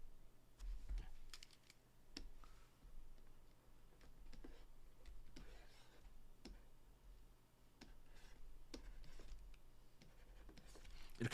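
Value labels being typed on a computer keyboard into SPSS, quiet irregular key clicks and taps scattered across the clip at low level, with no talking.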